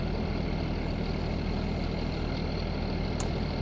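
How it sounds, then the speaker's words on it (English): A tractor engine in Farming Simulator 19, with an odd, rough tone, idles at a steady low rumble, continuous and moderately quiet, with no voices over it. "interesting sound on this tractor. It seems like it needs a little help if you ask me"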